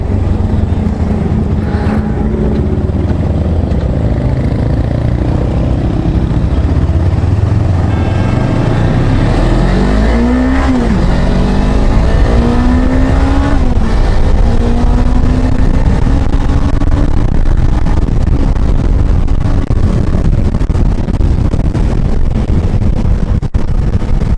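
A Suzuki Inazuma GW250F motorcycle on the road, its engine note rising through the gears toward top speed amid steady wind roar, revs climbing, dropping and climbing again, heard from the rider's position.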